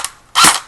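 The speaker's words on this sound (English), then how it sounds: "Here is a jammed barrel. This is what it sounds like." Airsoft gun firing with a jammed BB stuck in the barrel, a single loud hollow crack after a faint click, short and close.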